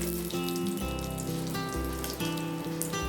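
Curry leaves and a dried red chili sizzle in hot oil as a tempering for coconut chutney, giving a steady, close crackle with a musical background underneath.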